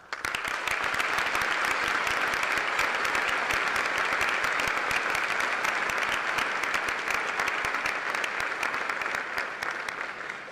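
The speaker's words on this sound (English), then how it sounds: "giving a vigorous amount of applause to those here today" A large high school graduation audience gives vigorous, sustained applause, a thick wash of many hands clapping at an even, loud level for about ten seconds before easing off at the end.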